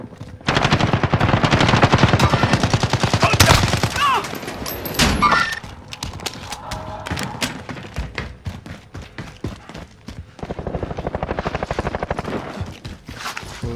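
Rapid automatic gunfire from Call of Duty plays up close and loud in long sustained bursts, then shorter volleys and scattered shots, ending in another extended stream of fire.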